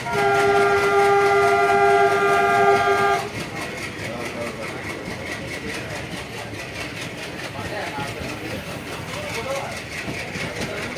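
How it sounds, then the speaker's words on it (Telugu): A train departing Itikyala railway station, a loud sustained horn blast for about three seconds, then steady rumbling and clattering of the wheels and carriages as it moves off. "సో ట్రైన్ వచ్చేసి ఇప్పుడే ఇటిక్యాల స్టేషన్ని డిపార్చ్ అవుతుంది."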